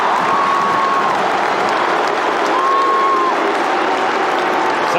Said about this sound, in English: you can hear the crowd going Roo, Roo